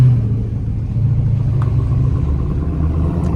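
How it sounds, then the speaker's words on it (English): A Dodge Demon's engine rumbles loud and close, a deep steady idle drone with no voices over it. "This is definitely the loudest car I've had"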